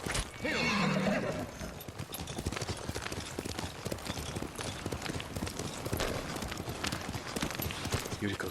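A horse whinnies loudly at the start, then hooves clip-clop in a quick steady rhythm, in the video game Ghost of Tsushima as Yuriko's horse is found; a voice speaks over the hoofbeats.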